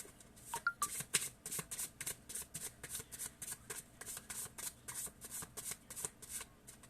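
Tarot cards are shuffled close up in a fast, even run of crisp riffling flutters that keeps going without a break, quiet and with no one speaking.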